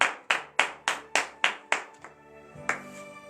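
Hands clap in a steady rhythm at a morning prayer service in Benin, about eight sharp claps, close and distinct, with a brief pause before one more clap.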